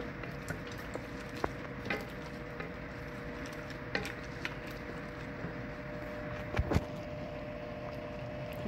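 A pot of okra soup with fried peppers and shrimp is stirred, soft scraping and occasional clinks of a spoon against the pot over a low simmering sizzle.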